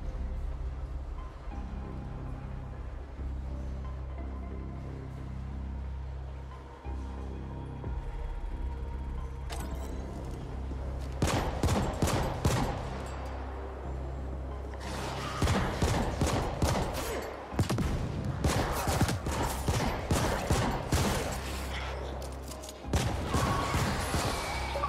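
Gunfire from shooting in The Ascent video game, with rapid bursts of automatic shots in clusters over a steady droning game soundtrack and short pauses between volleys.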